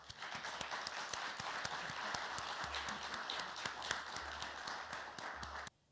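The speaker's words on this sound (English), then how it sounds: "Please give a big round of applause." Steady audience applause in a conference hall at a Korea-Eureka innovation forum, dense even clapping at moderate level for about six seconds before stopping abruptly, with a faint low hum beneath.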